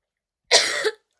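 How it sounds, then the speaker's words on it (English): A single sharp, close cough, one brief burst out of silence, followed by quiet. "Just need to cough."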